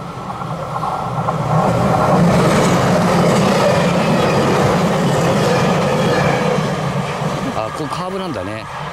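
A train rolls past on a curved railway line at the Matsukawa derailment site in Fukushima, Japan, a loud sustained rumble swelling and fading over several seconds, with a low squeal near the end and people talking alongside in the rain.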